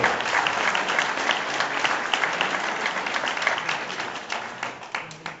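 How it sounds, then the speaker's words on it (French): A crowd applauds at a 2012 cycling prize podium ceremony, many hands clapping in a thick, continuous burst that slowly thins toward the end, with no speech over it. "Jean-François Mignon, on l'applaudit très très fort."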